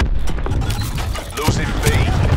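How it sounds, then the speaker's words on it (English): A cluster grenade in Call of Duty: Black Ops 4 bursts into a chain of rumbling blasts amid constant battle noise and other gunfire, with game voices talking over the chaos. "Throwing cluster grenade."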